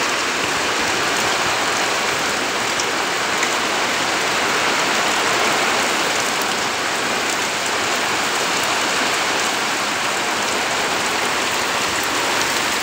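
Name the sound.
heavy rain falling outdoors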